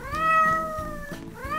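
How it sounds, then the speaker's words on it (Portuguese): A cartoonish cat meows in a Roblox game: a single drawn-out, whiny meow that is steady and clear, set over faint game background sound. "Pare de miar e venha comigo."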